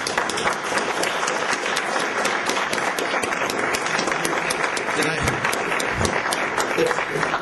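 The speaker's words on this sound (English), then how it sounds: "can I ask for a round of applause for our panel?" An audience at a clinical case session claps steadily in a round of applause for the panel, and a voice talks faintly under the clapping.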